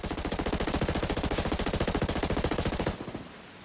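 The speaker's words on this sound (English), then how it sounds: "I hear enemy fire in the area" Rapid automatic gunfire from enemies in Ghost Recon Breakpoint, a loud, dense rattle of shots in an unbroken burst that cuts off sharply near the end, leaving a low rumble.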